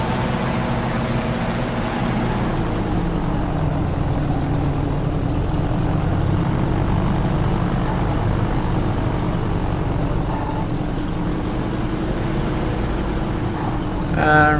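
The propeller engine of an F4U Corsair fighter taxiing in the DCS flight simulator gives a loud, steady, low rumbling drone that holds constant throughout.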